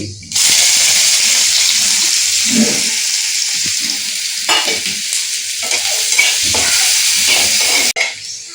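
Chopped onion and kalonji frying in hot oil in a home kitchen, a loud continuous sizzle with stirring scrapes and brief clatters, a voice now and then under the frying.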